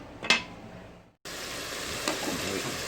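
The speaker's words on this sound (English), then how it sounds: "So all I'm going to do here is brown these up a little bit" Pork browning in an Instant Pot sizzles steadily and close, with a sharp clatter near the start, a brief cut to silence, then a continuous loud fry.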